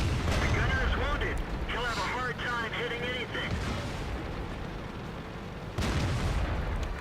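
Shells striking an FV4202(105) Tier X medium tank in World of Tanks, heard as loud booming impacts and explosive bursts, strongest at the start and again near the end, with game effects and a voice talking between the hits.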